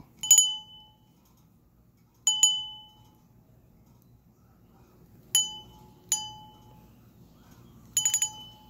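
A small bell on a kitten's toy rings in short, bright bursts as the kitten plays with it, five separate jingles spaced irregularly with quiet pauses between them.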